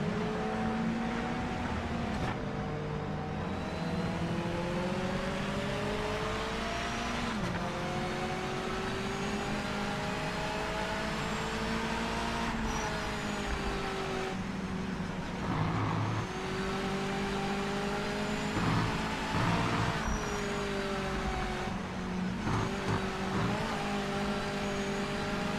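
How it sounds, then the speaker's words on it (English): Race car engines drone and shift pitch steadily in Project Motor Racing, a sustained buzzing of several cars at a moderate distance, rising and falling with gear changes, with no voices. "you can hear the cars from quite far away"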